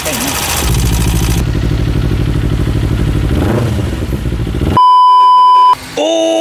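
A Kawasaki Ninja 250 (Modenas) motorcycle engine idles with a steady, loud rumbling clatter. It suddenly cuts to a sustained electronic beep, which then shifts to a lower tone.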